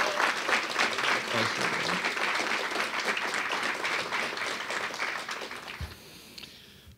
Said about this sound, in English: I'd like her to stand up and get a round of applause for